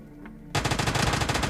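Automatic gunfire in the mobile battle-royale game PUBG Mobile Lite: after a short quiet lead-in, a loud, rapid burst of shots rattles on steadily to the end, close and alone with no voices.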